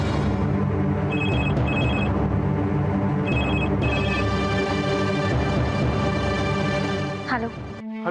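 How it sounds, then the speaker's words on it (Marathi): A telephone rings in repeated short electronic trill bursts over a busy background of music and noise, the rings coming in pairs and then a longer stretch before the sound cuts off near the end. "नक्कीच कोणीतरी माझ्यासाठी फोन करत असेल"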